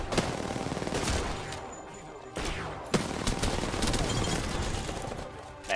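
Gunfire in the battle royale shooter Apex Legends, rapid automatic bursts that run almost without a break, punctuated by a few sharper single cracks, loud and close throughout.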